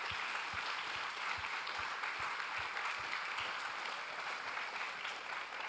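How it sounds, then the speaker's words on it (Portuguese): A church congregation applauds the Lord in a steady, moderately distant wash of clapping from many hands, with faint low thumps pulsing underneath and no talk over it. "Vamos aplaudir o nosso Senhor."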